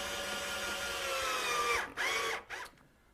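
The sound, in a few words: screwing cabinet to base with power drill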